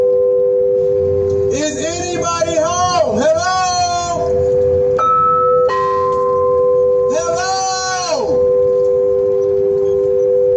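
Ringing bell tones with shifting pitches, struck in bursts with pauses between, loud and close.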